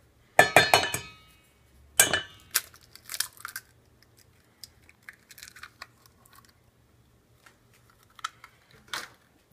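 A spoon clinks against a glass bowl while an egg is stirred into a fish ball mixture: a burst of sharp clinks at first, then scattered softer taps and scrapes with pauses between them.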